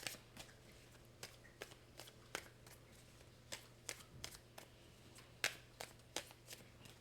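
Tarot cards shuffled and drawn, a run of quiet, sharp flicks and riffles in an irregular rhythm over a low steady hum, close and soft with no talk.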